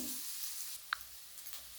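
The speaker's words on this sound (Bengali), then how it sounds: "আমি পেঁয়াজগুলো একটু ভালো করে ভেজে নেব, গ্যাসের জোরটা একটু কমিয়ে।" Onions frying in a pan over lowered gas heat, giving a faint, steady hiss of close sizzling with one small tap near the middle, heard alone.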